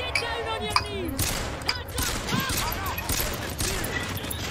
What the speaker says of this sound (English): who's throwing all these goddamn flashbangs?